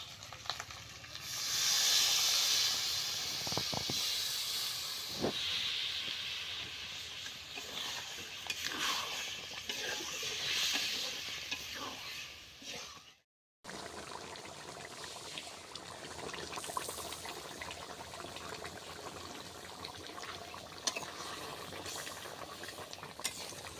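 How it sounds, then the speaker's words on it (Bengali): Water poured onto braised chicken curry in a hot pan sets off a loud burst of hissing and sizzling. It settles into a steady bubbling simmer with occasional stirring scrapes, broken by a brief silent gap midway. "মাংসটা ভালো মতন কষানো হয়ে গেছে, এবার জল দিয়ে দিই"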